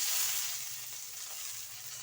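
Garlic fries in a pan for hotel-style obbattu saru, giving a steady, close hiss of sizzling oil that holds evenly throughout with no voices.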